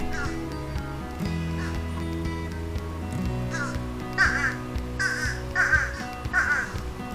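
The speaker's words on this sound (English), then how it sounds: "That's definitely a fish crow call right there." Fish crows caw several times at a backyard birdbath, a run of short nasal calls repeated in the second half, fairly close and clear over a low steady background hum.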